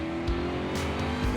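A 2016 Mustang GT upgraded toward 700 horsepower roars steadily as it accelerates, a loud close engine drone with a faint tire squeal and no voices.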